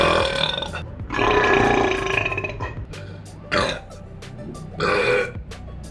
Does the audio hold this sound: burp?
yes